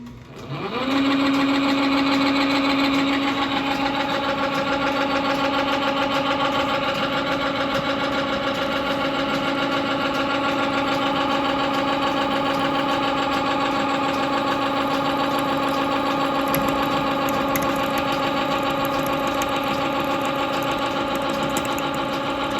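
A Kent milling machine runs continuously during repair with a loud, steady mechanical whine and hum that stays at an even pitch after starting up, close and sustained with no talking.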